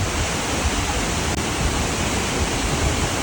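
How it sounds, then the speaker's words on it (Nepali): The Lauke waterfall in Kakani, Nuwakot, gives a dense, unbroken roar of falling water, loud and steady throughout. "झरनाको उचाइ र पानीको बहावले यसलाई अझै आकर्षक बनाइएको छ।"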